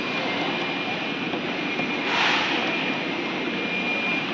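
A 5-axis CNC router spindle spins at speed, giving a steady airy hiss with a thin constant whine that swells slightly midway, continuous and unaccompanied by talk.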